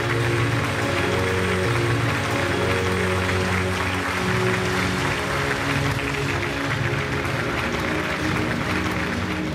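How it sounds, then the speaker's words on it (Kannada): Sustained dense applause from an audience at the Chittara Star Awards 2024 ceremony, steady and loud throughout like heavy rain, with faint crowd murmur beneath. "ಬನ್ನಿ ಜೋರಾಗಿ ಚಪ್ಪಾಳೆ."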